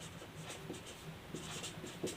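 Marker or chalk scratches on a board while a maths problem on averages is worked out, short faint strokes in an irregular sequence, quiet and close, with no talk.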